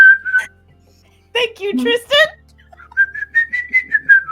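Someone whistles a short tune, sustained melodic tones opening the clip and returning near the end, with people talking and laughing in between at a tabletop role-playing game session.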